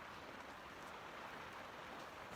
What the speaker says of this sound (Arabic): الشتا اليوم، الشهر ديال الشتا طاح 5 سوايع